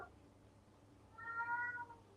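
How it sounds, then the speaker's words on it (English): A single cat meow rises briefly and clearly over a quiet, hissy room background after a moment of near silence. "Who's meowing?"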